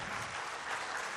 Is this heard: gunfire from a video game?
no